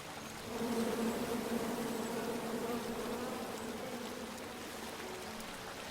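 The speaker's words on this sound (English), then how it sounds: "And then you chop down the tree full of angry bees?" Angry bees from the King's Quest video game buzz in a steady, droning swarm, faint but continuous and alone.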